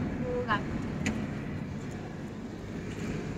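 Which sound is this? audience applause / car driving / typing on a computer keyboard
car driving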